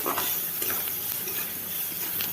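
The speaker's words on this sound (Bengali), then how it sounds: "এগুলোকে আর একটু ভালো করে নাড়িয়ে মিশিয়ে নিচ্ছি ভালো মতো একটু মিক্স করে নিচ্ছি" Taro leaves (kochu shak) with turmeric and salt being stirred and mixed in a pan, a steady scraping and soft sizzle that runs evenly throughout with no talking.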